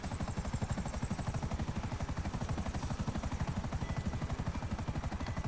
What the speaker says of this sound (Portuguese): Ou esse helicóptero aqui que é ruim de controlar mesmo.